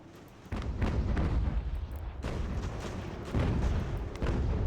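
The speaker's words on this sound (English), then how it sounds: "we got the gun shooting at him now" Artillery gun firing in the video game Ultimate General: American Revolution: deep booming reports, one near the start and more later, each followed by a rumbling tail over steady battlefield noise.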